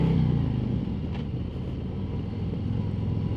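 A Harley-Davidson Street Glide motorcycle on a test ride gives a deep, steady engine rumble close by, holding a constant throb with wind and road noise over it.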